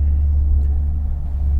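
A Chevrolet Corvette C8 with a custom exhaust idles while parking, giving a deep, steady low rumble that stays close and constant throughout.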